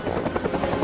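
Helicopter in an animated monster film, a loud, close, rapid rotor chop that thrums steadily throughout the brief moment.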